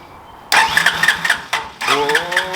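A Willys-style 4x4 mini jeep is started with a push button, its engine cranking in two loud bursts of rhythmic churning with a short gap between them, close up.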